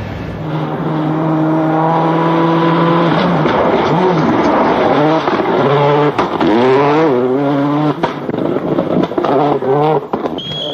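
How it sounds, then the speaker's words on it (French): A Ford rally car spins at full speed in sixth gear on a special stage of the 2004 Rally Mexico. The engine roars loudly and continuously, its pitch sweeping up and down through revs and gear changes. "Marco Martin, au volant de sa Ford, pointe au 4e rang, malgré ce tête-à-queue à fond de 6 dans la dernière spéciale de la journée"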